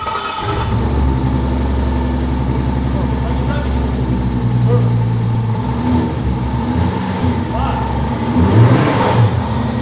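An RB30-swapped 1950s Ford Popular Anglia engine idles and revs in a low, grumbling rumble close by, with people talking over it.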